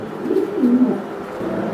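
A female pigeon coos softly and low, a few throaty rolling notes close by over faint background hum.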